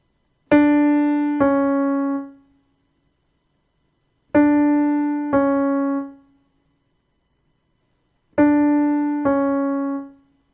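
Three separate two-note figures, each a rising minor second played on a sustained reed-like instrument with rich harmonics, each figure held briefly and separated by silence: the interval that opens Joy to the World.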